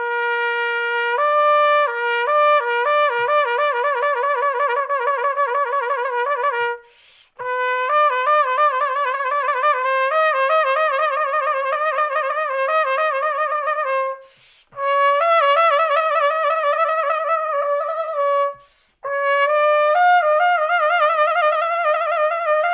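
A trumpet plays a series of smooth lip slurs, sliding up and down through harmonic steps in repeated phrases with short pauses between.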